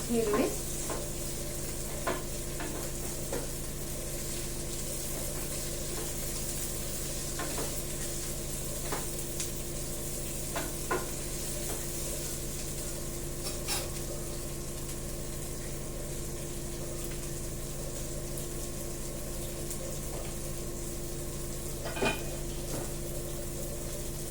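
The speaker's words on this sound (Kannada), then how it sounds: "ಈರುಳ್ಳಿ ಫ್ರೈ ಹಾಕಿದ್ದೀನಿ" Onions sizzle steadily in a hot pan as tempering for hotel-style idli sambar, a constant crackling hiss with occasional stirring clicks and scrapes.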